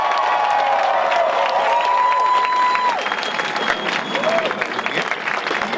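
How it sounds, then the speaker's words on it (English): Loud, sustained applause from a graduation ceremony crowd honoring graduates, dense clapping with some cheering running steadily through the whole stretch, with a few tonal whistle-like sounds early on. "if everybody can give our students, our graduates, a round of applause"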